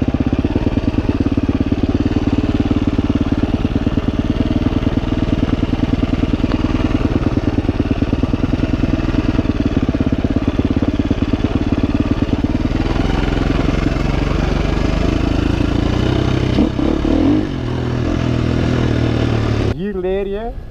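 A Husqvarna FE 250 enduro motorcycle revs steadily and loud while riding offroad in Portugal, its engine droning continuously before easing off near the end, with a brief rise in pitch at the close.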